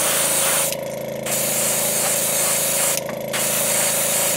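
An airbrush sprays Createx transparent bright yellow paint onto a fishing lure's belly: close, steady hissing bursts, interrupted by two short pauses, over a constant compressor hum.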